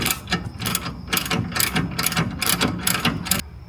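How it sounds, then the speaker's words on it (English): A torque wrench ratchets in quick repeated bursts of clicks while bolts on a BMW X5M are tightened to 100 newton meters during a lowering spring install. The clicking is close and moderately loud, with no voices, and stops abruptly near the end. "we're tightening this down to 100 newton meters"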